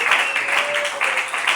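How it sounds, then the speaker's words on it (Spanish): Church congregation applauding during a prison evangelism sermon, a steady, fairly loud burst of many people clapping with a rhythmic pulse running through it. "Denle ese aplauso con el alma al Señor."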